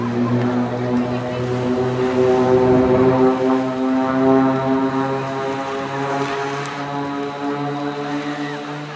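Several propeller aircraft of the Blades aerobatic team drone steadily overhead in formation at a seaside airshow, a continuous layered engine hum with strong low harmonics, fairly loud and sustained, with faint speech underneath.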